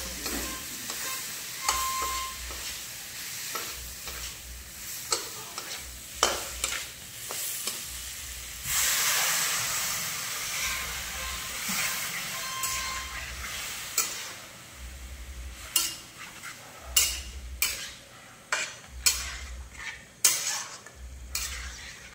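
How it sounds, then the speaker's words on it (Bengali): Boiled potatoes being stirred and fried with spice masala in a pan for a Kolkata restaurant-style Mughlai dish, with a steady sizzle broken by repeated spatula scrapes and clinks against the pan, close and fairly loud. "মশলাটা আলুর সঙ্গে মাখিয়ে নেব"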